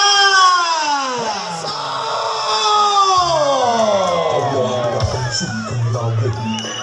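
A crowd at a folk arts troupe performance answers the call for applause with loud, drawn-out shouts, whoops and cheering from many voices, with general hubbub underneath.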